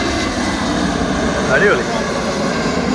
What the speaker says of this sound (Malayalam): ലുഫ്താൻസ ഫ്രാങ്ക്ഫർട്ടിൽ നിന്ന് ലണ്ടനിലേക്ക് വരുന്ന എയർബസ് 320 വിമാനം